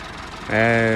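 A tractor-driven thresher machine runs during a sesame harvest, a low rumble that swells halfway through into a loud, steady droning hum close by.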